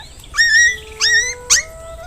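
A cartoon dog whimpers in three short, high, nasal whines, the last one brief and sharp, close and clear over a quiet background.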